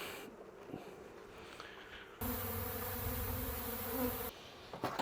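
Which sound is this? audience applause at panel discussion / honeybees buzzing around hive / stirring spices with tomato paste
honeybees buzzing around hive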